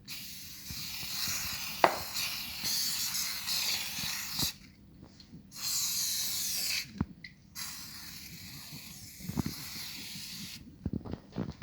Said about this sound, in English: and just spray it on our pan.